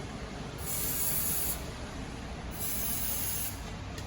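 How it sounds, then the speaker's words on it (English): Two separate bursts of silicone aerosol spray hiss onto a car window pivot shoe, each about a second long, over a steady low background rumble. "I always use my best friend silicone spray. I like to spray on top of the pivot shoe."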